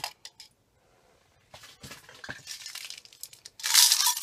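Glass beads clink and rattle up close as they are sorted by hand, in short bursts of sharp ticks that build to a busy cascade of jostling glass.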